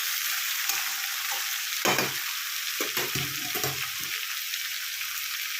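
Large chopped Malabar spinach (puin shak) greens drop into hot fish oil in a frying pan, a steady loud sizzle punctuated by bursts of crackling and stirring as the leaves hit the pan.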